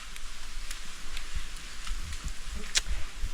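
Rain pouring down outdoors as a steady hiss of drops, with occasional louder taps and knocks close by.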